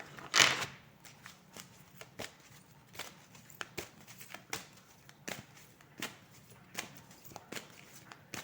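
Oracle cards being shuffled by hand, a soft papery burst at the start followed by a steady series of light riffling taps and slides, close and quiet.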